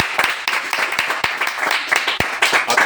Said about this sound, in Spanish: Un aplauso muy grande a Javi.